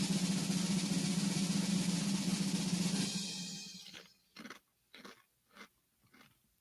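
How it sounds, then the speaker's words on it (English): A cheesy buffalo dip chip, not a wavy one, is chewed near the mic, with a few distinct crunchy bites sounding in the last seconds after a stretch of steady background noise. "Okay, he's munching the first one."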